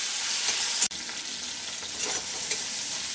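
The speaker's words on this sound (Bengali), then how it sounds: "দিচ্ছি টমেটো কুচি, এগুলোকে একটু নেড়ে নিচ্ছি তেলের মধ্যে" Chopped tomato and chilli sizzle in hot oil while being stirred, giving a continuous close frying hiss with a sharp scrape of the utensil near the start and a few smaller clinks later.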